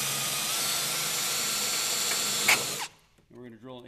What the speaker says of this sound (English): And we're going to drill an 1/8-inch hole.